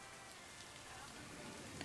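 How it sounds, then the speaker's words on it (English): Steady, soft rain patters on surfaces in the video game Lake, a dense continuous hiss with no break. "I love the rain in this game"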